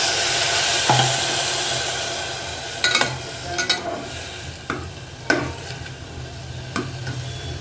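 Mixed vegetables frying with sautéed onion and tomato in a pressure cooker for pulao, with a steady sizzling hiss and several spoon scrapes and knocks against the cooker; no voices.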